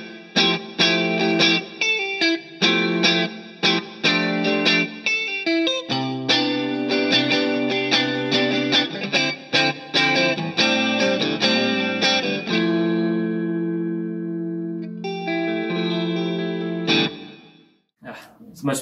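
Bass guitar run through compression, chorus and reverb plays a busy sequence of plucked notes and chords with a thick, shimmering tone, steady and loud, ending in sustained ringing notes and a final pluck.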